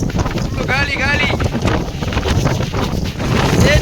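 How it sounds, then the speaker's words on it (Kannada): Strong wind buffets the microphone with loud, rough gusting noise, while a person talks over it. "ಏನಿದು ಹೀಗೆ ಗಾಳಿ, ಏನ್ರಿ ಗಾಳಿ?"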